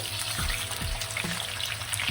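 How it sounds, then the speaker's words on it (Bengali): Rohu fish pieces fry over a low flame after being flipped, a steady close sizzle with faint watery crackle and a few soft low bumps, no talking. "এবার একটু উল্টে দেবো মাছগুলো"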